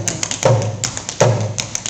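Appalachian clogging taps, including an Irish double toe placed in front of the basic step, heard as a rhythmic pattern of crisp taps and heavier thuds that repeats twice, close and loud with no talk.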